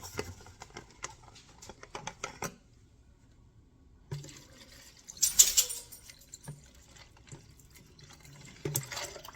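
Cold brew coffee poured from a nearly empty container into a blender for a chocolate strawberry protein shake, a short splashing trickle with drips after a brief pause, fairly quiet and close.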